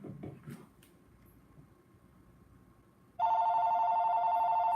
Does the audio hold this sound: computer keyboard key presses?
no